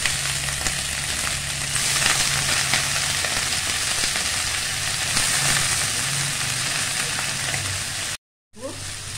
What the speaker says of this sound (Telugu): ఉల్లిపాయలు బ్రౌన్ కలర్ వచ్చేంత వరకు అలా ఫ్రై చేసుకోవాలి.